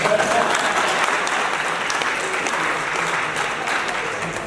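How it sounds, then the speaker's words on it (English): A crowd applauding loudly and steadily for several seconds, a dense wash of clapping hands in a room. "Clap for him again."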